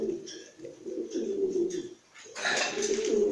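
Zureño pigeons coo in soft, repeated throaty phrases, close and moderately loud, with a brief pause before a louder, breathier burst of cooing.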